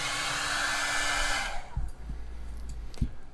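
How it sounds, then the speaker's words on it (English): A hair dryer blows steadily with a whirring hum, then switches off, leaving quiet room noise and a few soft handling bumps. "I'm going to hit it with the hairdryer to get some of that shininess to go away."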